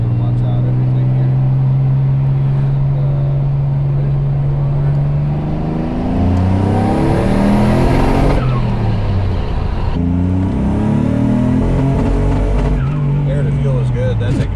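Built twin-turbo Mitsubishi 3000GT at 28 psi boost, its engine revving hard and loud up close with pops of backfire, pitch climbing and falling over sustained pulls while people talk nearby.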